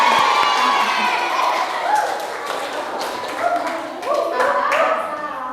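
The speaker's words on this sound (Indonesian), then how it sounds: "Betul, tepuk tangan." Classroom audience applauding during a lesson, a dense steady patter of many hands clapping close by for several seconds, with scattered voices and shouts mixed in.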